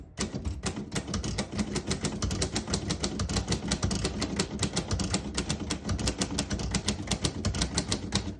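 Rapid, steady keystrokes clatter on a 1938 Royal O Model vintage portable typewriter, a dense run of close, crisp mechanical strikes with no talk.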